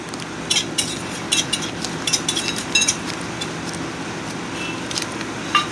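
Cracked green cardamom, fennel seeds and nutmeg dry-roast in a pan, with a faint steady rustle under light, irregular scraping clinks of a spoon stirring the spices up close.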